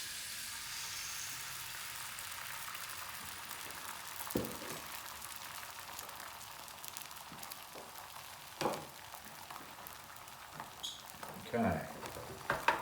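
Eggs fry in a hot pan with a steady, faint background sizzle, broken by a few soft clicks and scrapes, suggesting chopsticks moving the eggs; no one speaks.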